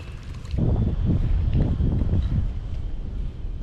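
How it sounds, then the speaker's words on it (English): Wind gusts roar across a microphone on a kayak out fishing on open water, a low buffeting rumble that swells after a quiet start and stays steady and close, without speech. "wind's starting up again"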